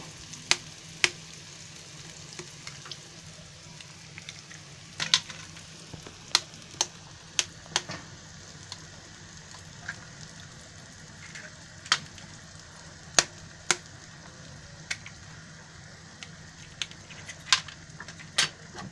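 Three cracked eggs frying for egg bhurji give a steady soft sizzle, with a scatter of sharp clicks and taps from a spatula working against the pan throughout.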